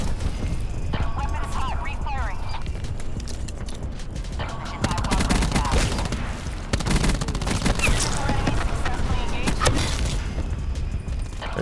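Dense gunfire in Call of Duty Mobile, with rapid automatic bursts and repeated shots continuing almost throughout, loud and close, while a player talks over the shooting.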